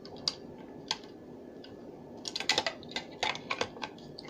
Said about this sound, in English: You push this in, and you hear that click.